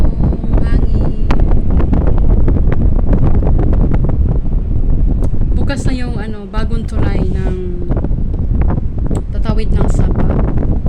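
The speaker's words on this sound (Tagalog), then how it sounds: "tungod sa kakusog sa atong hangin" Strong afternoon wind roars and buffets a nearby microphone nonstop, a loud, rough rush that masks almost everything, while a person talks underneath it.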